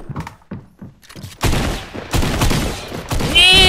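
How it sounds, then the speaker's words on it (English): Rapid bursts of minigun fire in a first-person shooter video game, loud and dense, starting abruptly after a quieter stretch and continuing steadily with brief breaks, alongside other game sounds. "Oh, he has a minigun."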